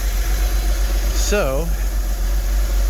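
A 2003 Porsche Boxster that sat unused for over four years with a dead battery idles steadily nearby, a low constant drone under a brief spoken word and a short rising tonal chirp midway.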